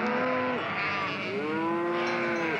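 Turkana cattle in drought-stricken Kenya low in two drawn-out moos, the first brief and the second longer and rising then falling, fairly close and clear with no talking.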